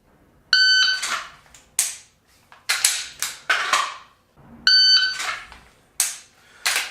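Shot timer beeps from a par timer during laser dry-fire practice with a 9mm pistol trainer, two sharp electronic tones several seconds apart, each followed by quick loud clicks and snaps nearby.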